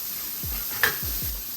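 Red pepper and jalapeno strips go into a pan of spicy gochujang shrimp fried rice, giving a steady close sizzle with a few soft drops and a brief metallic clink.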